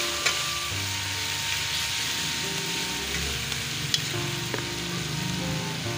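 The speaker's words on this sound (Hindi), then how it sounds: "ये लहसुन अदरक और सब्ज़ मिर्ची फ्राई हो गई हैं।" Garlic, ginger and green chilies frying in hot oil for a chicken liver and peas curry, a steady loud sizzle with a few sharp spatula knocks, no talking.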